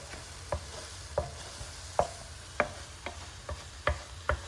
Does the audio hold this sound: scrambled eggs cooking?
yes